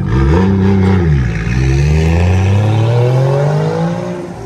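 A Nissan Skyline roars past close by, its engine revving hard with rising and falling pitch sweeps, loud and alone before fading slightly as it moves away.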